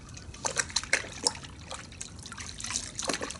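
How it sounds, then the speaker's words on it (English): Car wash soap water agitated by hand in a bucket: quiet irregular sloshing, trickling and dripping splashes in short bursts, close and soft, with no talking. "just agitating the water manually, it is producing quite a bit of suds already"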